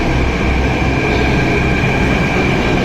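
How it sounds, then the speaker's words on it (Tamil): A Delhi metro train rushes into the station at speed, a loud, close, continuous rumble of rolling wheels with a high steady whine over the top, holding at full strength throughout. "மெட்ரோ வந்துருச்சு பயங்கர ஃபாஸ்ட்டாக வந்துருக்கு"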